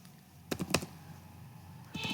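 A short burst of computer keyboard typing, several quick keystrokes near the start and a few more at the end, close and fairly quiet, entering Prolog rules.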